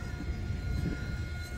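An EDF FT A-10 model jet flies overhead, producing a continuous distant whooshing drone with a low rumbling hiss that stays fairly even throughout.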